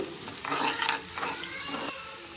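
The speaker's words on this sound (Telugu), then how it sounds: "కట్ చేసుకున్న ఉల్లిపాయ పచ్చిమిర్చి కూడా వేసుకుని కొంచెం ఇవి కూడా ఫ్రై చేసుకోవాలి" Chopped onion and green chilies frying in oil for a bottle gourd curry, sizzling close and fairly quiet, with several scraping stirs of a spoon through the pan and no voices.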